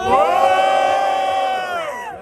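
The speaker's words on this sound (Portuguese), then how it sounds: "barulho pra quem gostou das rimas de Menor Sante!" A rap battle crowd cheers and shouts loudly and steadily, a dense wall of whoops and yells from many voices that fades slightly at the end.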